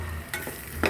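Potals fry with salt, chili, turmeric and garam masala, a steady close sizzle broken by brief stirring scrapes in a short burst, with no talking.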